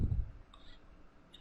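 A single faint mouse click on a hyperlink, short and dry against near-silence, with a soft thump of desk handling at the start and end.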